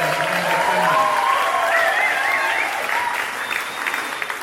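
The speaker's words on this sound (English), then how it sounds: "I want to just give a big round of applause for everybody" A crowd at a music event claps warmly and steadily, the applause slowly tapering off, with a few cheers and voices mixed in.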